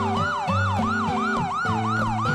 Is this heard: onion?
no